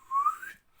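A person imitates a slide whistle from a car stunt flip over a broken bridge in a Bond film. One short whistled tone rises and then bends down before stopping, alone and fairly clear.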